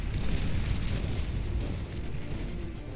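Nuclear bomber strikes in the strategy game Beyond All Reason, a dense, roaring low rumble of continuous explosions that swells and eases slightly, heavy and close, with no voices.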